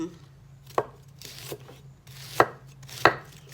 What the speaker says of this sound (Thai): หั่นผัก หั่นผักเตรียม